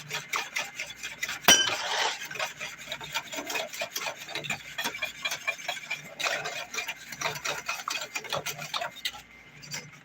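A spoon scrapes and rubs around a pot of thickening vanilla pudding in a home kitchen, with a rhythmic stirring scrape and occasional light clinks against the side, at close range.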